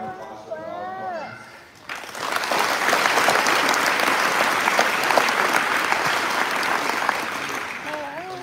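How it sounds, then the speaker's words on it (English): A high school commencement audience answers a spoken introduction with a full, sustained round of applause that swells after about two seconds, then fades slightly as talking resumes at the end. "I'd like to just take one more round of applause for all of you."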